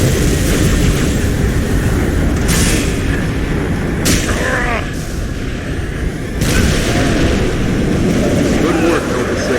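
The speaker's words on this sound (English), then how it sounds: "Permission to commence bombing run" Heavy booming explosions from an aircraft bombing run in the video game Halo Reach, a loud continuous rumble with several sharp blasts hitting in sequence, dense and close throughout.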